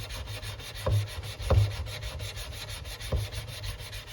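Flat back of a steel wood chisel rubbed across a sharpening stone to take off the burr, giving a soft gritty scraping with a few sharper strokes, close and moderately quiet, with no talking.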